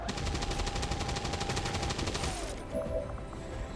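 Rapid gunfire in the tactical game XCOM 2 crackles in a dense, sustained burst of shots, loud and close, then cuts off into a quieter tail.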